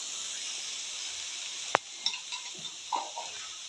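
Puffball mushrooms are stirred in a sizzling pan, a steady frying hiss with one sharp utensil scrape followed by a few softer scraping stirs.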